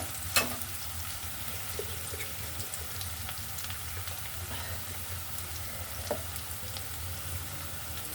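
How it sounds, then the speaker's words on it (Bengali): Onions frying in a pan with cardamom pods, a steady soft sizzle throughout with a couple of brief utensil clicks, close but fairly quiet, no talking. "বেশি ভাজবো না পেঁয়াজটা অল্প করে একটু শুধু পেঁয়াজগুলো যেন ফুটে যায়"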